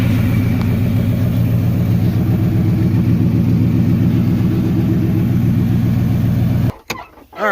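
A Ford 5.4 liter Triton V8 in a King Ranch truck idles close and loud with a steady low rumble, then is cut off abruptly near the end.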